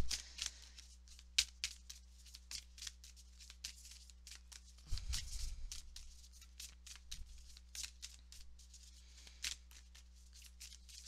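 Tarot cards being shuffled and drawn by hand: a steady run of soft, quick paper flicks and snaps, fairly close and quiet, with a brief duller handling rustle midway.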